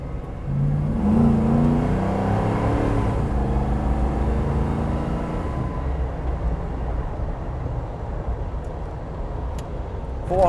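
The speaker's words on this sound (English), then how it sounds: "Let's listen to the engine." A 1996 Land Rover Defender 110 engine pulls away on a rough road, rising briefly in pitch before settling into a steady low drone with road rumble, fairly faint inside the cabin.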